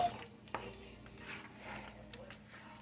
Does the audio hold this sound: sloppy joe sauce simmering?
yes